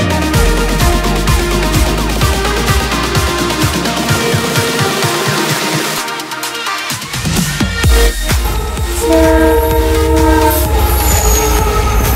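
Haripriya Express train pulls out of Ghataprabha station, loud and close: a horn blast and steady clickety-clack of wheels over rail joints, with squealing wheels and a second sustained horn toward the end.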